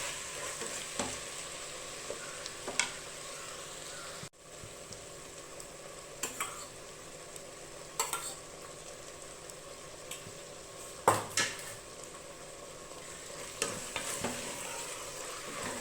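Chicken pieces with herbs and yogurt sauté in a pan for low-budget biryani, a soft steady sizzle with occasional scraping stir strokes and clinks of a spoon against the pan.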